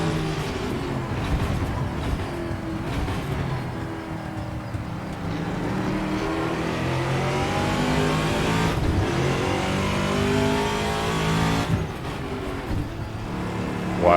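A VRC TA2 race car engine roars at high revs in a racing video game, climbing through the gears with a couple of sharp shift breaks, accompanied by a raspy exhaust note and a faint tire squeal.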